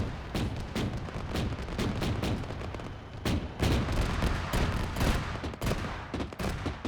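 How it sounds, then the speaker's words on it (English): In a war video game, a tank's main cannon fires amid dense, continuous battle noise: rapid loud booms and cracks overlapping in close succession throughout. "let that main cannon sing"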